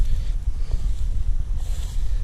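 Rushing water of the small Młynówka river near an old 19th-century mill dam, a steady low roar, broad and continuous, heard alone outdoors.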